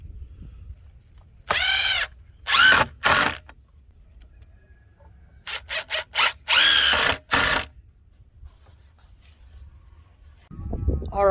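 Power drill boring pilot holes into a wooden board for a hay feeder, several short bursts of whirring spaced a few seconds apart, close and loud against a quiet room.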